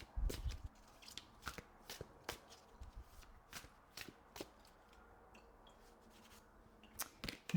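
Tarot cards being shuffled and drawn, a quiet close series of crisp card slaps and flicks in an irregular rhythm, with soft rustling between them and a dense shuffle burst at the start.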